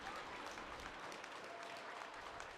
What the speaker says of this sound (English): Crowd's giving him a round of applause